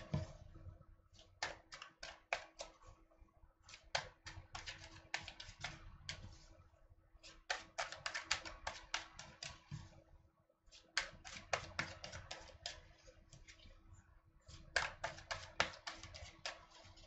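Tarot cards being shuffled, quiet rapid bursts of flicking clicks in repeated clusters separated by short pauses, close and alone.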